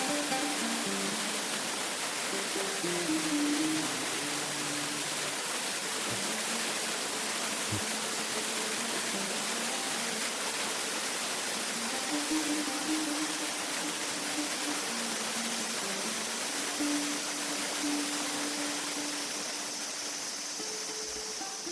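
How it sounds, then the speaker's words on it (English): A steady, dense roar of a waterfall rushes continuously for the whole stretch, broad and unbroken, with a low tonal murmur drifting underneath and no talking. "We're going now to the waterfall"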